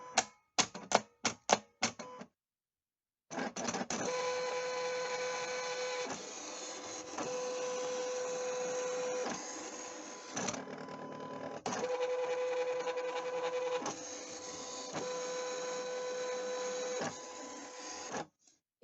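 A Silhouette Portrait 3 cutting machine drawing with pens on paper, its motor giving a steady mechanical whir with rapid stepped carriage movements, broken by short pauses and a few sharp clicks at the start.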